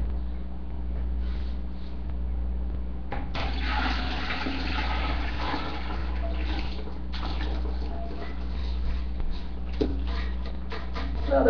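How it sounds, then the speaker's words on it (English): Warm water pours into a 5-gallon tub while making homemade laundry detergent, a steady splashing rush that swells for a few seconds over a low background hum and then fades back. "Now this is warm water in this 5 gallon tub."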